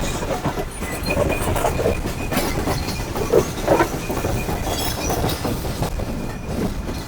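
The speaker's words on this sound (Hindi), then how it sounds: "और अब कराची की तरफ ट्रेन गामजन है और इंशाल्लाह आगे जो है वो 2 घंटे रेगिस्तान में चलेगी।" Karakoram Express passenger train rolls through desert toward Karachi, with a steady loud rumble, rhythmic clickety-clack of wheels and faint squeals, heard from on board with no talking.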